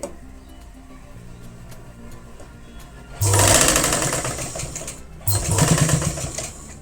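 A sewing machine stitching a newborn baby's jhabla garment runs in two close, loud bursts of rapid mechanical whirring and ticking, with quiet pauses before and between.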